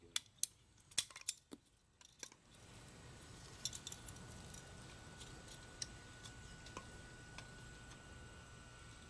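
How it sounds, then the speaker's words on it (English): Plumbing pipe cutter snipping material into handles, several sharp close clicks and snaps in the first two seconds, then quiet with faint ticks over a steady background hum. "we'll cut us a couple handles here if I can do it without breaking it"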